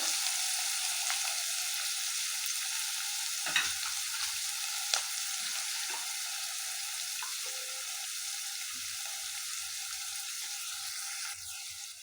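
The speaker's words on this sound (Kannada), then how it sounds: "ಸ್ವಲ್ಪ ಬ್ರೌನ್ ಕಲರ್ ಬರೋ ತನಕ ಚೆನ್ನಾಗಿ ಫ್ರೈ ಮಾಡ್ಕೊಳ್ಳಿದ್ದೀನಿ" Onions frying in hot oil until brown for a home-style chicken biryani, giving a steady, even sizzle throughout with a couple of faint clinks from stirring, close and alone.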